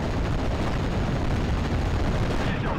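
Artillery shells bursting in the World War II strategy game Steel Division: Normandy 44, a dense, continuous roar of explosions and distant gunfire filling the whole stretch, loud and without pauses.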